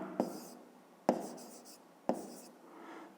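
Pen writing a short numeric answer on paper for a fifth-grade math exercise: three quick strokes, each a sharp scratchy onset fading off, close and quiet, no voices.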